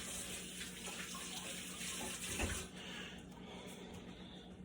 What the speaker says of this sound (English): I rinse my hands off today